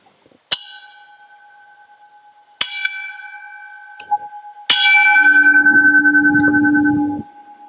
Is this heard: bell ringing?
yes